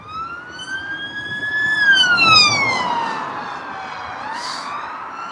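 A British police car's siren wails loudly and close as the car speeds past, the pitch sweeping up and down over steady road noise.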